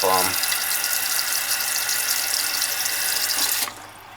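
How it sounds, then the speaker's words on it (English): Water runs steadily into an overflowing toilet, a loud continuous rushing and splashing that cuts off abruptly near the end, leaving a quieter hiss. "Let's see if it flushes like that with that amount of water."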